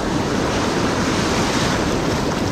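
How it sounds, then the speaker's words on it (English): Ocean surf washing ashore in rough conditions along a striped bass fishing spot, a loud, continuous roar of breaking waves mixed with wind buffeting the microphone, no voices. "Waves are not that crazy over here, you know?"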